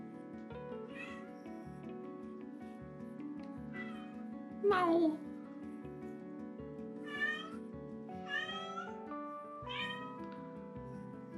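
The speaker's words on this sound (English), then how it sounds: "Some good cat ASMR going on." A pet cat meows several times in quick succession, one louder mid-clip call followed by softer mews, heard up close over quiet background music.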